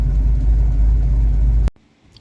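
A Ford Mustang engine runs with a loud, steady low rumble close by, then cuts off abruptly and leaves near silence.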